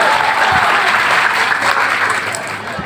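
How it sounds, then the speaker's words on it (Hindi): A live audience breaks into loud, sustained applause, thick crowd clapping that stays strong and even before easing off slightly toward the end. "ताली बजाइए, एनर्जी मिलती है।"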